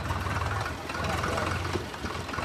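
A steady low engine rumble with a rattling, knocking texture runs throughout, close and continuous, like a tractor chugging along.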